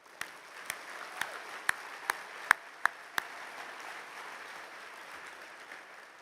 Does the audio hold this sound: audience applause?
yes